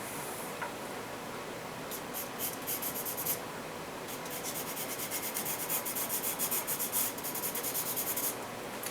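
Pencil strokes scratch and rub across paper while a pear is drawn and shaded, a steady close scraping texture that grows busier and more rhythmic toward the end, with no talking.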